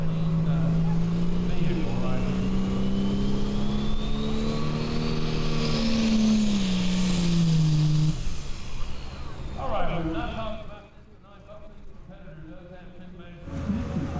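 A turbocharged pulling tractor at a Western Kentucky state fair pull roars loudly with its engine pitch climbing, then the revs drop away into quieter rumble before a brief burst of noise returns.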